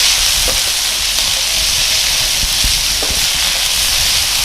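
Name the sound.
sautéing carrot, baby corn, peas, beans in pan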